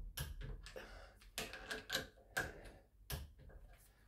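Connecting rods being fitted into a Cox 1641 model engine, a series of sharp small mechanical clicks and taps, close and quiet, irregularly spaced over a faint background.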